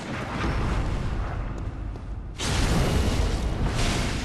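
A deep booming cannon blast in Bloodborne rumbles out, then a second heavy boom follows a moment later, both loud and close with a roaring tail.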